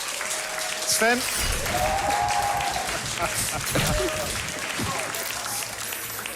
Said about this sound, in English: I assume you're applauding that I'm still standing.